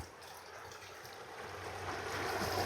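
A small stream near Seaside, Oregon, where crawfish are caught by hand net, gives a steady, soft rush of flowing water that swells slightly louder toward the end, with no voices.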